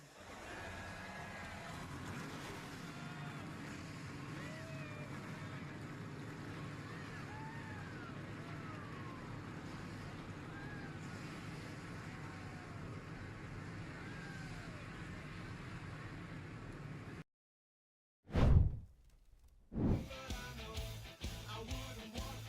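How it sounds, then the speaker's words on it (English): Racing truck engines fire up at Eldora during an Under The Lights racing truck series derby: after a steady crowd-and-track rumble and a brief drop to silence, loud, deep engine bursts erupt and then pulse unevenly close by. "Drivers, start your engines."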